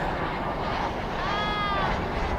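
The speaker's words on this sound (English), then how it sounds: "There's a plane flying right above us." Airplane passing overhead at night near Dallas/Fort Worth International Airport, a steady broad engine roar with a rising and falling whine, loud and close throughout.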